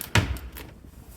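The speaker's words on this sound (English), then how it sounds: "as I put this door panel back on" A plastic interior door panel on a 2008 Infiniti FX35 knocks into place with one sharp, close thump, followed by a faint softer tap.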